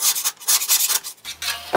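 A flat scraper rasps rust from the steel plate of an old hand saw in short, repeated strokes, close and fairly loud, with brief pauses between passes.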